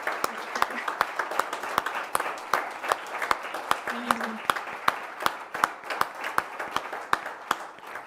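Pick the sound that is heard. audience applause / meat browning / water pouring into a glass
audience applause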